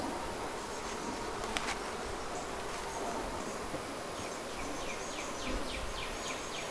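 Honey bees buzz steadily around a beehive outdoors, a dense, continuous drone of many insects at close range, with no voices.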